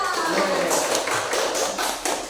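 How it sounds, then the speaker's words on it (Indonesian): A class of students clapping for a classmate in a school lesson, a short burst of quick, close hand claps lasting a couple of seconds, with a voice talking over them. "Beri tepuk tangan untuk Haryanta."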